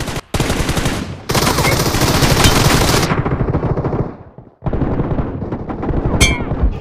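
Sustained rapid gunfire from aim practice in a shooting video game, loud and close, in long automatic bursts broken by brief pauses, with a quieter stretch before firing resumes.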